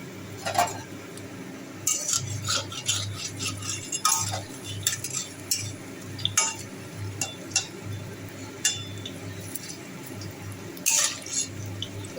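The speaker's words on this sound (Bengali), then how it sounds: "বড়াগুলো ভাজা হচ্ছে একটু কম সিম করে ভাজতে হবে" Bora fritters frying slowly in oil on low heat: a soft, steady bubbling under a low hum, broken by scattered sharp clinks of a metal utensil against the pan, with no one talking.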